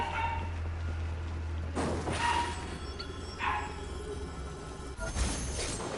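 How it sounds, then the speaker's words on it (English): A pet dog named Jackie barks faintly in the background, a few scattered yips and short barks from another room, low and distant beneath a quiet room hum. "Sorry if you can hear a dog in the background, that's just Jackie."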